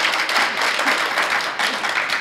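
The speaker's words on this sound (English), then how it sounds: "A round of applause again for Koral to take time out of his schedule." An audience applauds after a history lecture, steady dense clapping from a room full of people, loud and close throughout the short stretch.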